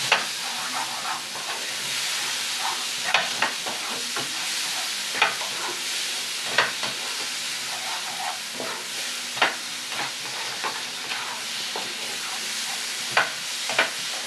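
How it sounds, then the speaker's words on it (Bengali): Spice paste for Kashmiri-style potato curry fries in a pan with a steady close sizzle, while a spatula scrapes and knocks against the pan every second or two. "দেখুন মশলাটা আমার ভাজা হয়ে এসছে"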